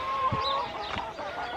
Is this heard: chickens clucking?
yes